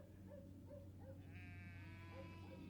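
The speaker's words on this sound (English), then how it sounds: "The braying of the sheep became a mocking cry" Sheep bleat on Dartmoor, several soft wavering cries at a distance over a constant low rumble of wind or background noise.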